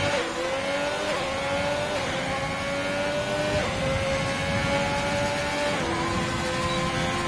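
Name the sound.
race car finishing a lap, from a racing video game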